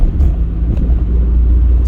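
An Austin 1300 car drives along with a low, steady engine drone and road rumble, heard from inside at a loud, even level over two seconds.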